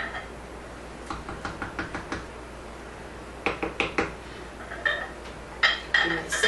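Metal cutlery clinks and knocks in a kitchen as a spoon is fetched, with two runs of short, sharp taps and a brighter jingle of silverware near the end.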